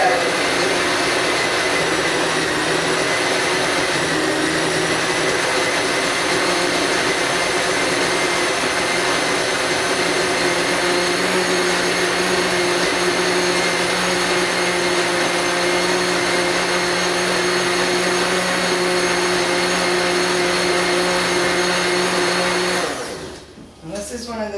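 A countertop blender on its stir setting whirs a herb mixture in a loud, steady, unbroken drone for over twenty seconds before winding down abruptly at the end.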